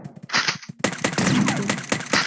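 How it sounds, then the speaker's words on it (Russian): Gunfire in the Chicken Gun video game during a duel, a rapid run of sharp, loud shots that starts after a short pause and continues in dense bursts with no talking. "Ты не видишь, я стреляю в тебя."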